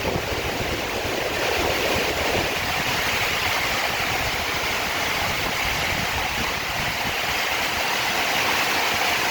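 Storm wind and rain lash steadily in a dense, unbroken roar, loud and close, with no voices over the continuous rushing noise.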